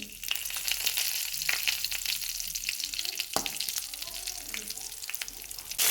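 Cumin seeds and dried red chillies fry in hot oil, giving a close, crackling sizzle with scattered pops and stirring sounds throughout.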